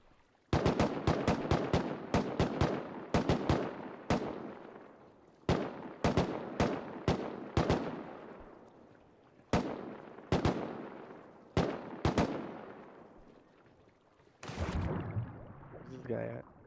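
Gunfire in the video game Rust, sharp loud shots in quick bursts then spaced single cracks with echoing tails over about sixteen seconds, ending in a rougher burst.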